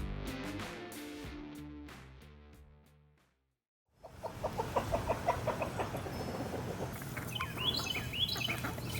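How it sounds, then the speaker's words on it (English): Chickens on a homestead cluck and murmur in a steady, close chorus after a stretch of music, with occasional higher calls rising above the flock. "We've got chickens,"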